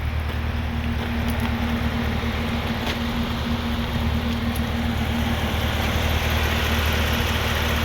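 A supercharged LT4 V8 in a Chevrolet Camaro ZL1 idles steadily up close, a constant deep rumble with a low hum running evenly throughout and no talk.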